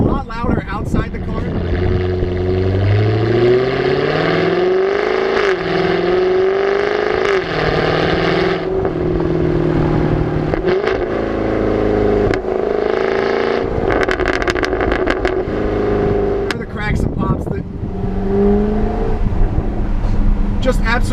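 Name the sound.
Jaguar F-Type R exhaust revving with valve open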